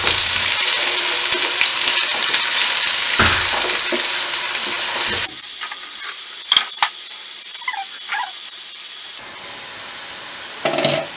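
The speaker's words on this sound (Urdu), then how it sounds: "آئل گرم کرنے کے بعد اس میں ہم ڈالیں گے پیاز، اور پیاز کو ہم اچھی طرح اسے پکائیں گے" Onions sizzle and fry in hot oil for an aloo gosht base, a dense, loud crackle that fills the first half and then drops to a quieter simmer with a few sharp spatters and clinks.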